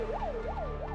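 An ambulance siren wails in a steady rising and falling cycle, repeating about three times a second, continuous and moderately distant over low traffic rumble.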